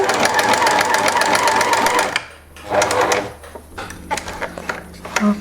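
A sewing machine stitches shirred fabric with elastic thread in a fast, steady rattling run, then stops and gives a few shorter stuttering bursts; a voice speaks over the pauses.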